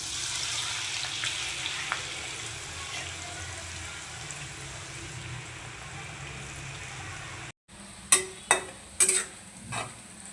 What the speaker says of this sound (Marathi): आता आपण याला तेल गरम करून फ्राय करून घेऊया. गरम झालंय. आता मी याच्यामध्ये कारले सोडते.